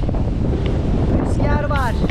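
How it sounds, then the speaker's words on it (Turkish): Strong wind buffets the microphone with a steady, rumbling roar throughout, and a voice briefly speaks beneath it near the end. "Bayağı rüzgarlı."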